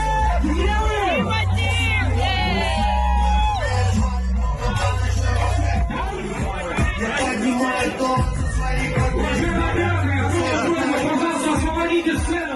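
Concert crowd in Bishkek awaiting the performer: loud, continuous hubbub of cheering and shouting voices with whoops over a steady low bass thump, a dense wall of crowd noise throughout.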